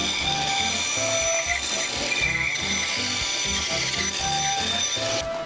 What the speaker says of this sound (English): With a pre-drilled hole, I used the jigsaw and I followed my lines.